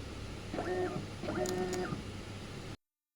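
A TSC label printer prints a sticker, triggered through an FX5U PLC: two short bursts of motor whir with steady tonal lines, each about a second long, over constant room hum, then it stops abruptly.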